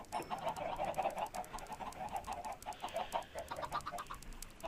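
Chickens clucking at an XP farm in Minecraft, a steady busy stream of overlapping clucks and fowl calls with no talk over it.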